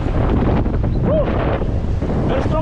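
Very strong wind on Bokor Mountain in Cambodia buffets the microphone with a loud, continuous roar and rumble, steady and unbroken throughout.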